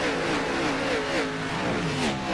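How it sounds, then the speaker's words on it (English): Xfinity Series race cars accelerating at Texas Motor Speedway, a loud steady engine roar with rising revs and overlapping engine tones from several cars close by, continuous throughout with no talk. "as these cars will take off one more time."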